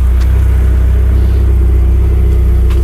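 A Nissan car engine idles steadily and loudly at close range in a low, constant rumble, with no talking.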